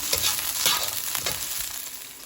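Garlic sautéing in a pan for a Filipino pakbet, with a steady, close crackling sizzle and a few soft stirring scrapes running throughout, no voices.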